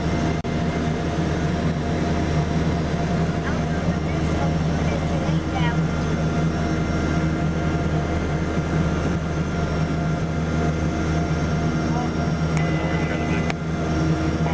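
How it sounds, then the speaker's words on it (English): Steady airplane engine drone from a flight simulator game, a continuous broadband hum running the whole time with no break, while people talk over it about lining up with the runway. "The 9-year-old friend Ian flying the flight simulator."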